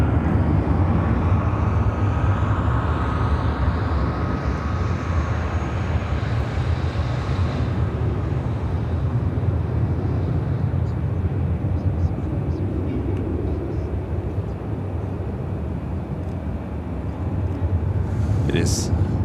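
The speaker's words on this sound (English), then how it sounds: "Airlines 944 taking off to Bozeman on the 737-800." A Boeing 737-800 takes off at Chicago O'Hare with a broad, steady engine roar that holds loud throughout and slowly shifts in tone as it climbs away.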